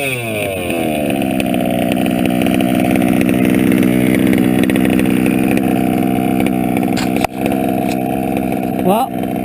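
A small motor engine runs steadily and loud close up, a rough buzzing drone with a brief blip near the end.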